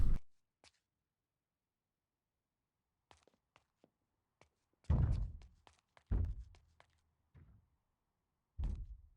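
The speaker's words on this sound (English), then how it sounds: "If it's hammering on that door" A zombie hammers on a door in Project Zomboid, heard as heavy, booming thuds spaced a second or more apart among faint scattered knocks, with long quiet gaps and no talk.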